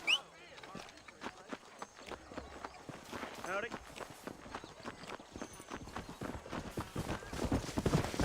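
A horse gallops in the Red Dead Redemption video game, rapid rhythmic hoofbeats drumming close and clear with a brief whinny, while someone talks over the action.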